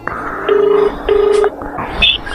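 Telephone keypad dialing tones while redialing a number, a few short steady beeps in sequence, the last one higher, over faint background noise.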